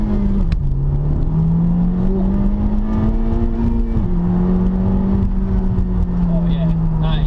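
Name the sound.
Honda Civic Type R manual car driving, engine revving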